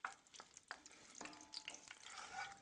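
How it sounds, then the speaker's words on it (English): Garlic and serrano chili sizzle and fry in olive oil while being stirred, with soft scraping strokes and steady crackle close up, no talk. "just let that cook for a few minutes, stirring it around until it's all soft"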